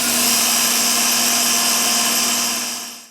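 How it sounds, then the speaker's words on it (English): A kitchen grinder jar running continuously, grinding sesame seeds into a coarse powder, with a loud steady high-pitched motor whine and rattle close up, then winding down as it switches off near the end. "we are going to grind these into a coarse powder"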